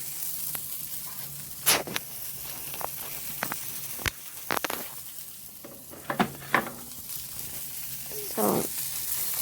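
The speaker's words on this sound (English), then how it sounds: "I hope you guys can hear the grilling." Chicken sizzles on a grill with a faint, steady hiss, broken by scattered clicks and clatters of handling nearby.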